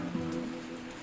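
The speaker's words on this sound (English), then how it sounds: "Everybody's sitting out here in the rain." Steady outdoor rain in the Philippines pattering on surfaces, a dense even hiss throughout with no voices, moderately faint and continuous for about a second.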